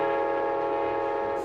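An Alaska Railroad train runs with a steady, sustained tonal horn-like drone that holds loud and unbroken throughout, with no voices.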